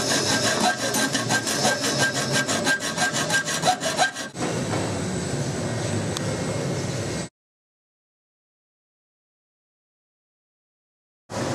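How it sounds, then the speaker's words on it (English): A hacksaw cuts through a clamped Parajet paramotor cage tube, loud steady back-and-forth rasping strokes for several seconds, then a shift to a smoother scraping before the sound stops. "And now we're going to get the hacksaw and chop it off."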